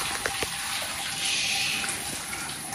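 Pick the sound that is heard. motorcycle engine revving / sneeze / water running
water running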